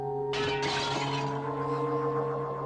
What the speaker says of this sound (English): Lamp, I order you to shatter!